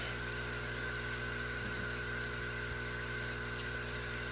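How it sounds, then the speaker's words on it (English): An aeration pump hums in a crayfish aquarium, a steady low drone with faint bubbling and soft periodic clicks, quiet and unbroken, no voices. "I've got a lot of aeration in this tank."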